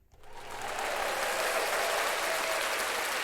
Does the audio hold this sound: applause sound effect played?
yes